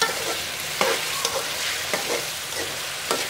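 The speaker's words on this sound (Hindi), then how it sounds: "तो ये देखें इसकी मैंने तकरीबन 3 मिनट तक बुनाई कर ली है।" Chicken pieces fry in a hot pan for a kachnar recipe, a steady loud sizzle broken by several scraping stirs of a spoon, with no voices.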